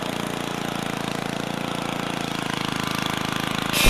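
Steady buzzing lawnmower engine of the Lawnmower Dude character in the Happy Wheels video game, droning loud and even throughout without talk, with a brief louder burst at the very end.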